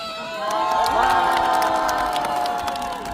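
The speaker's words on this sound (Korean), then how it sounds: "박수 박수!" A Korean crowd gathered around Huh Kyung-young cheers and shouts loudly, with sustained voices and whoops over scattered claps, the roar swelling near the middle and holding steady.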